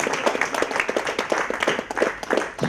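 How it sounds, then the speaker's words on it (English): At a state startup conclave in Tamil Nadu, an audience claps for a speaker, loud and close, with distinct individual hand claps standing out within uneven, lively applause. "Mr. Dennis deserves a big round of applause for all"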